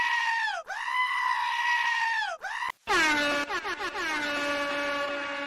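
Goats bleating loudly nearby, several long wavering calls one after another with brief pauses between them.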